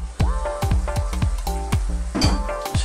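Chicken and onions frying in a covered pan, a steady loud sizzle broken by repeated sharp clatters and knocks as the food and pan are moved about, with no talking.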